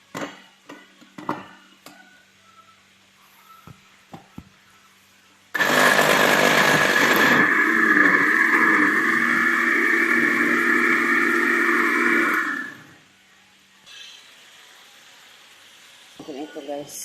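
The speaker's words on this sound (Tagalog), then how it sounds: "Blender natin ang ating tomato." A blender blending tomatoes: a loud, steady motorized whirring starts abruptly, runs for about seven seconds, then cuts off, with quieter room noise and small clatters before and after.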